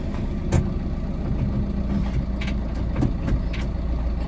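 A tempo truck's engine idles with a steady low rumble throughout, fairly loud and close, with occasional faint clicks and road noise on top.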